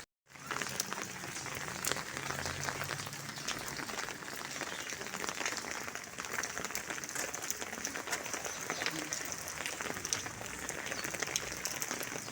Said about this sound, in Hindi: बारिश थोड़ी थोड़ी तेज़ होती जल्दी है